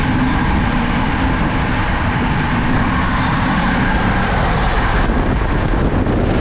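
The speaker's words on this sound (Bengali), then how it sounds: "দেখুন এবার ক্রসিং, একটা মারাত্মক crossing, 22436 new Delhi Benaras Vande Bharat express." The 22436 New Delhi–Varanasi Vande Bharat Express crosses the Howrah–New Delhi Rajdhani Express near Ghaziabad Junction, a loud, steady rolling rumble heard close by from on board throughout.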